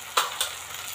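Ground spices with Kashmiri chilli, turmeric, salt and a paste being stirred and fried in a pan for a vegetable and rice dish, with two sharp scrapes of the spoon over a steady, close sizzle.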